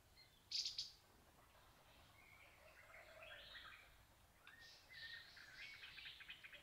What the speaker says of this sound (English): A brown-cheeked fulvetta.